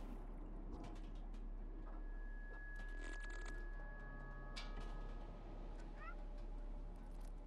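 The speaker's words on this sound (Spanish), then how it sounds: "Ya veis, ya he maullado 100 veces" A cat meows a few times in the video game Stray, the short cries soft and fairly distant over a quiet ambient game background with faint tones.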